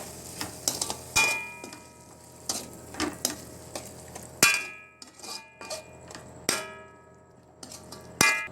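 Oyster sauce and sweet soya sauce stirred in a pan for mamak-style mee goreng, with repeated sharp metallic clangs and scrapes of a utensil against the pan over a soft sizzle, irregular and close.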